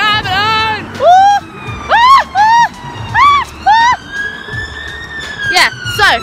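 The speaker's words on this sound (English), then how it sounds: "Oh, it's an ambulance!" An ambulance siren at an outdoor festival sweeps up and down in a quick repeating yelp, about one cycle a second, loud and fairly close over faint crowd noise.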